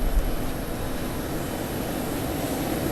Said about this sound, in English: I'm gonna show you the airplane right here.